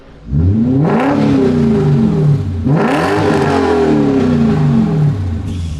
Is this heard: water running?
no